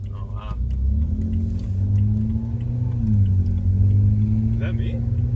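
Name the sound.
BMW with exhaust cutouts accelerating, engine revving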